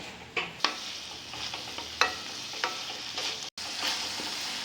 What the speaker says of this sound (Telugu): ఓన్లీ పసుపు వేసి ఇట్లా వేయిస్తే సరిపోతుంది